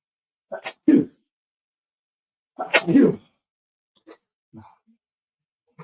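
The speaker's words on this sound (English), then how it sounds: "I'm going to sneeze." Two sharp sneezes, each led by a quick intake of breath, are followed by quieter sniffs and small breathy sounds in a silent room.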